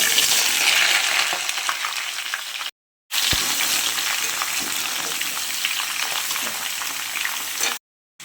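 Vegetables frying in hot oil with panch phoron, dried chilli and bay leaf, a loud close sizzle with stirring, briefly cut by two short silent gaps.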